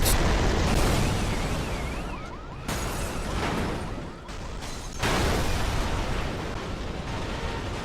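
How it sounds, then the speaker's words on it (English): Loud, continuous crashing and roaring Burnout 3: Takedown game audio on PS2, with crunching car-crash impacts and bursts of noise layered over a dense engine rumble, no one speaking. "And one more car crash."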